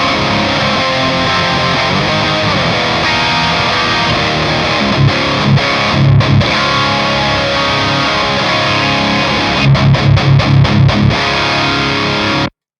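Distorted rhythm guitar through a Kemper SDS SO30 OD preset, a profiled overdrive amp, playing dense sustained chords with a few sharp palm-muted stabs, loud and upfront with no voices.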